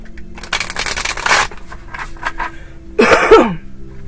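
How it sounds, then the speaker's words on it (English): A few dry, rasping coughs in a short burst, then a pause and one more harsh cough-like burst, close by with no talking. "That dry cough."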